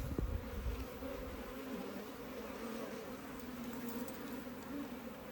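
Africanized honey bees from a colony nesting in a water meter box make a continuous, fairly faint buzzing hum, with a few brief knocks at the start.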